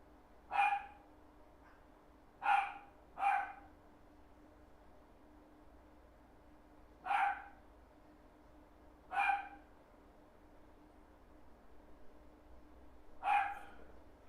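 Neighborhood dogs bark from a distance, six sharp separate barks spaced irregularly over a quiet background, fairly faint and with no talk.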